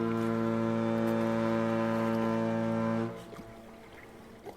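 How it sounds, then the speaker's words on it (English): A deep, loud foghorn blast from a video game holds steady for about three seconds, then cuts off into a quiet ambient tail. "Foghorn."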